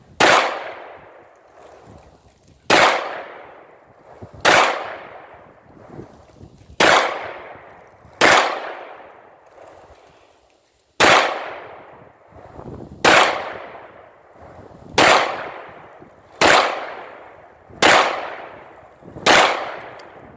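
Guns fired at an outdoor shooting range, about eleven loud, sharp reports spaced roughly two seconds apart, each followed by a fading echoing tail, with a short gap midway and no talking.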